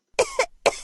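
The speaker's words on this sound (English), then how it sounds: "Coughing." A recorded cough effect sounds for the control key in the Ballyland audio game, two short, close, sharp coughs separated by a brief pause.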